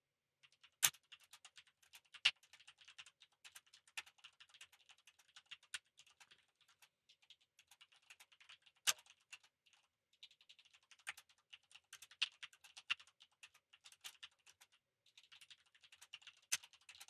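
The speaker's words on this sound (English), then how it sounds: "I know this typing noise is very entertaining to watch." Someone types on a computer keyboard in rapid, irregular bursts of clicky keystrokes, close and fairly quiet, with a few sharper key taps standing out and no speech.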